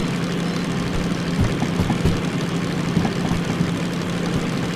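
A diesel locomotive engine in the Derail Valley train simulator drones steadily in a low, rumbling idle-like hum, with faint clicks and knocks over the constant mechanical noise and no talking.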